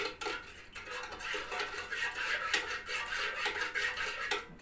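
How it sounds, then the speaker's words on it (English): A spoon stirring sugar in a bowl while preparing dough for cinnamon scrolls, with continuous light scraping and clinking against the bowl, close and fairly quiet, with a few sharper taps. "And get a spoon. Give it a stir. Dissolve a bit of the sugar."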